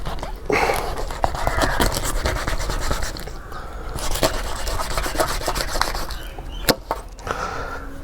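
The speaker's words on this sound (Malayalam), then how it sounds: "ഓക്കെ, അപ്പോൾ ഇതിൻ്റെ തല ഇങ്ങനെ നമുക്ക് കട്ട് ചെയ്തെടുക്കാം." A knife saws through the head of a small fish, a close rasping, rubbing scrape with sharp knocks against the cutting surface.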